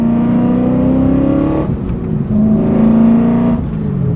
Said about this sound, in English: I'm going to close the valves because they're a little bit loud in this car